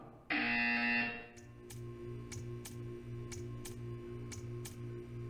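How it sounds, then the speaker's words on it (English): A buzzer from the video game Portal 2 blares in one loud tone for about a second, then gives way to a repeating ticking pulse over a low electronic hum. "You will hear a buzzer."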